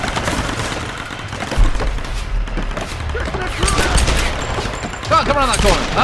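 Rapid bursts of gunfire in Tomb Raider (2013) crackle and thud repeatedly, overlapping in clusters at a moderately loud level, with a player's voice talking over the shooting.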